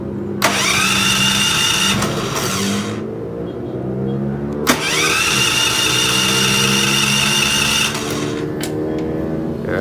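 Dual fuel 3 kW generator engine cranking: two long starter-driven bursts of a small engine turning over, each several seconds with a sharp pull at the start, separated by a brief pause, loud and close.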